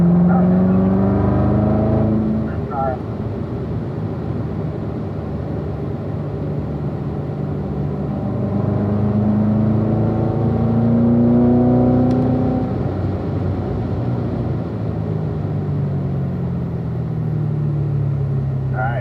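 A car accelerates out of a corner with a smooth, rising motor whine that swells and dips through the turn, heard steadily beneath continuous talk from inside the cabin.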